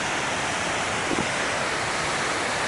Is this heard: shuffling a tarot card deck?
no